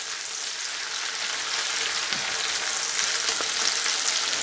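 Spätzle fry golden brown in a pan, giving a steady, dense sizzle that crackles evenly throughout with no voices.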